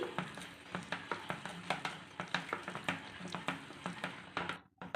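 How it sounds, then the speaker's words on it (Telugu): A spoon briskly mixing a wheat semolina batter with sunflower oil in a bowl, a quick, rhythmic series of close taps and wet scrapes that stops abruptly near the end. "ఇలా వేసుకున్నాక మొత్తంగా బాగా కలుపుకోవాలి"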